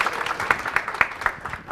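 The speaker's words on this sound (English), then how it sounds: "let's welcome her with a round of applause" An audience applauds to welcome a speaker: a steady patter of many hands clapping at moderate level, with no voices rising above it.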